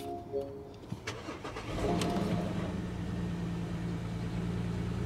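A car at an auction lot cranks with a few clicks, then catches and settles into a steady, loud idle that runs on evenly, heard alone.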